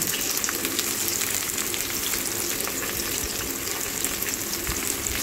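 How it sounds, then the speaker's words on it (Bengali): Chopped onions fry for a goat meat curry, giving a dense, continuous hiss and crackle of hot oil that stays close and steady throughout, with no voices. "এবার পেঁয়াজ আগে থেকেই কুচি করে রেখেছি, আর দিয়ে দিলাম।"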